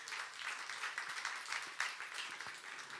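Church congregation at a youth service clapping together, a steady broadband patter of many hands, fairly quiet and distant-sounding, continuous across the moment without talk over it.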